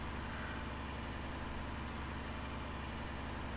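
A tractor engine idles in the Farm Simulator 2013 video game, a faint, steady low hum with a constant mechanical drone and no change in speed.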